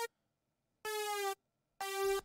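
Short bright synth fill from a Serum supersaw patch in a drop: a brief blip, then two sustained buzzy stabs of about half a second each separated by silence, fairly quiet and alone.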